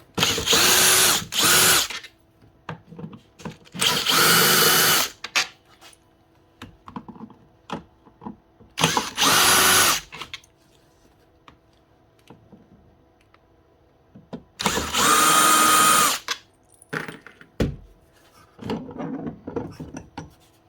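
A power drill runs in several loud bursts, about a second or two each, as it backs out the motor housing screws on a Dewalt DWE7492 10-inch table saw with a burnt-out motor, with quieter clicks and handling noises in between.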